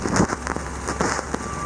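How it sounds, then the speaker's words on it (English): Rain falls steadily on humid ground outdoors at an old bottle dump dig site, a soft continuous patter with a few louder drops and splashes. "It's very humid and very rainy"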